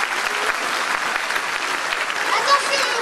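A crowd at a circus festival in Treillières applauds continuously, a dense hiss of clapping with voices and cheers mixed in throughout.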